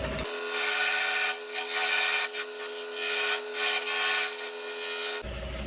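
Parting tool cutting into a sycamore bowl blank spinning on a wood lathe, a continuous close, loud scraping hiss with slight pulsing variations, a steady motor hum beneath, ending abruptly.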